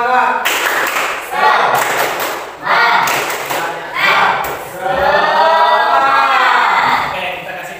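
A high-school maths class performs a rhythmic spirit clap together, bursts of loud, closely grouped claps in repeating patterns with voices chanting along.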